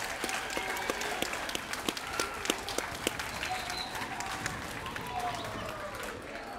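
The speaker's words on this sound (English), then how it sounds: "give yourselves a big round of applause" Middle school students and staff at a UIL academic competition giving a big round of applause, a full, sustained crowd clapping with distinct individual claps scattered throughout.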